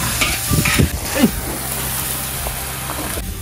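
Pork and cabbage stir-fry with soy sauce hisses and crackles in a large pot of food cooked for workers, with a steady sizzle and scraping stir strokes close by.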